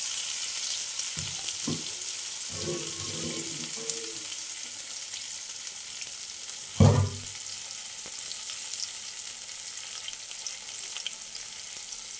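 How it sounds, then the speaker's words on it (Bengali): Stuffed pumpkin-leaf fritters fry in hot mustard oil in a wok, a soft continuous sizzle broken by a few brief clatters and one louder knock, with no voices. "এবার আমি কড়াইতে সর্ষের তেল দিয়েছি, এটা কিন্তু সর্ষের তেলেই হবে।"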